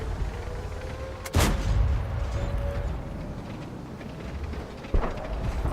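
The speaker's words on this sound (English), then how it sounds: "the Oni has just fired HE into the Super Pershing of the Flying Elite" Tank cannon firing HE shells in World of Tanks, an Oni tank destroyer shooting at a Super Pershing: two sharp booming shots a few seconds apart over a steady engine-like game rumble.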